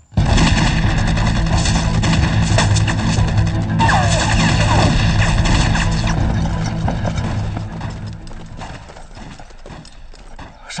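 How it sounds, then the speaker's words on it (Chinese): In a war film, dense, rapid gunfire from several guns rattles on loudly and without a break, then thins and fades toward the end under a busy battle soundtrack. "枪声很激烈，听起来不只有几个人"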